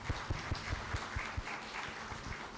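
A guest is welcomed at a science and technology event with audience applause, steady and moderately quiet throughout, with irregular louder claps and thumps in the foreground.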